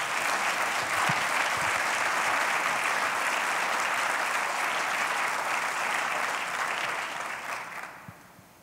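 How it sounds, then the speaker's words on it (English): A conference audience at a commercial crew Starliner panel applauds the panelists, a dense, loud, sustained clapping from a full room that carries on for several seconds and then tapers off toward the end. "If I could ask for a round of applause for these panelists"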